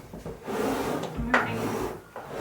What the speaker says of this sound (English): Moving the drawers.